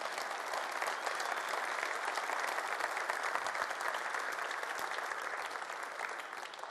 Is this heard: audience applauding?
yes